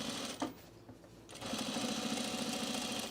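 A home sewing machine stitches across cargo shorts, a brief burst and pause followed by a steady, close mechanical whirring run of rapid needle strokes.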